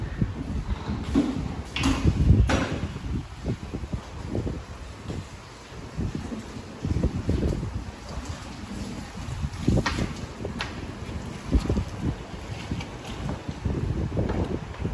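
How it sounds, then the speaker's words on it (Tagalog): Strong wind roars through an atrium and buffets the microphone in uneven gusts, with low rumbling bursts and a constant rushing hiss throughout. "Itong lugar na to, yung atrium, napakalamig kasi rito. Ang lakas ng hangin."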